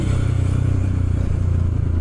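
A motorcycle engine labors loud and close as it climbs a steep uphill road on the way to Aruna Kopi on Gunung Menir, with a steady, throbbing low drone throughout.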